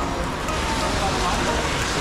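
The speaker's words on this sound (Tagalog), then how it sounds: "ang lakas ng ulan" Heavy rain pours steadily on a street in Akihabara, Japan, a dense, continuous hiss with no break, and a voice can be heard faintly beneath it.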